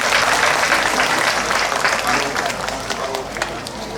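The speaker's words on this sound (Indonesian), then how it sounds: "Tepuk tangan untuk Mas Dimas Pramuka" Festival audience applauding after an introduction at an evening event in Blitar, a dense, steady wash of many hands clapping throughout, loud and close with crowd noise blended in.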